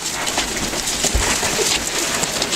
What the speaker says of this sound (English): The rain messes up the robot.